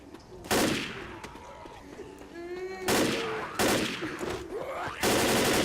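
Gunfire in the zombie shooter Left 4 Dead: four sharp, loud shots spaced irregularly over several seconds, with someone talking in between and faint game ambience underneath.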